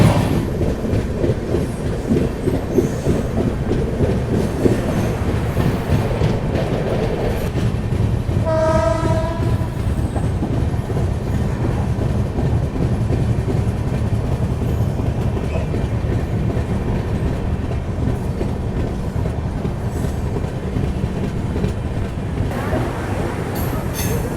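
An Amrit Bharat Express train rumbles past close by at Etawah Junction station with rhythmic clattering wheels; a horn sounds briefly partway through, and the roar continues steadily to the end.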